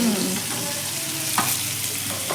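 KFC-style chicken frying in hot oil in a home kitchen, a loud continuous sizzle with occasional stirring scrapes, close and alone without speech.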